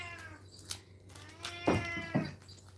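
A pet cat meows and caterwauls indoors during a needle-felting stream, with a couple of close, drawn-out cries and a sharper yowl near the end over quiet room tone.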